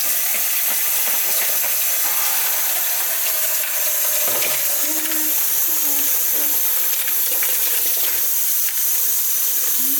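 A kitchen tap runs steadily while celery is washed under it, a loud, close hiss of flowing water with faint clinks and handling sounds over the top.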